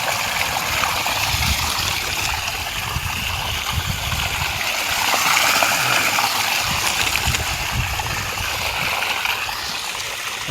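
Water rushes and gurgles continuously at a steady, fairly loud level, like a flowing stream nearby.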